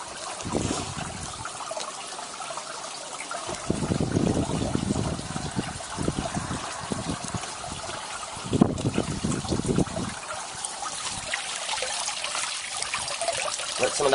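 Water trickles and splashes through plant material onto the rock base of an aquaponics system, a steady close washing sound with a few louder surges, no voices.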